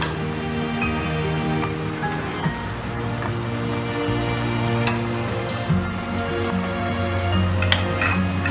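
Mixed vegetable kurma sizzles and crackles in a pan while being stirred over and over, a continuous close frying hiss with scraping and bubbling, no talking.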